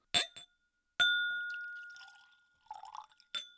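Mezcal goes into a glass: sharp clinks with a long bright ring from the glass, then a short burst of liquid splashing, followed by another clink, all close and without talk.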